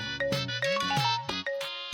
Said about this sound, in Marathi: तुझ्या जावयाचा फोन येतोय